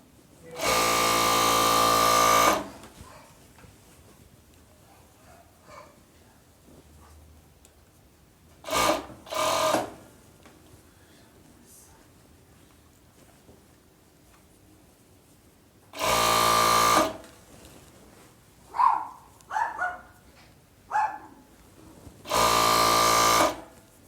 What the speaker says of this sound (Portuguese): Unindo aqui as costuras da cava.